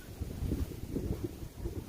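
Blustery wind buffets a microphone in low, rumbling gusts that swell and fade over a couple of seconds, with no clear voice.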